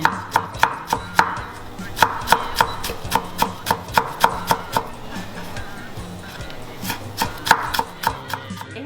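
A knife chops garlic into small pieces on a board, with quick, even knocks in steady runs and a brief pause midway, while food is made for spring rolls.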